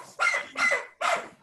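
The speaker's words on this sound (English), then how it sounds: "That's my dog going crazy with that toy." A pet dog barks excitedly while playing with a toy indoors, three sharp close barks in quick succession, loud and alone.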